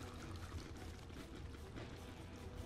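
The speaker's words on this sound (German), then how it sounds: "Auf jeden Fall Wasser." Water flows in the Ark Ragnarok video game as a steady, soft rushing pour that stays constant and fairly quiet, with no talk on top.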